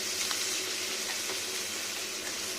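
Garlic paste and onion frying together in oil, an even, close sizzle with faint stirring ticks through a short stretch, with nobody speaking.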